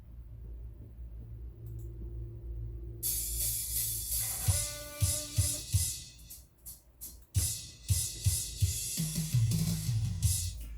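After a low rumble, a drum track starts playing back, with steady rhythmic kick thumps and bright cymbal wash, fairly quiet and recorded.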